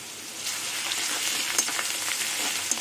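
Garlic paste frying with browned onions for a cabbage and prawn dish, a dense continuous sizzle with a few sharp crackles, close and steady throughout.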